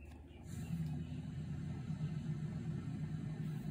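A Honda car's engine drones steadily while driving in Need for Speed Payback, a low continuous rumble holding at an even, moderate level with no talk over it.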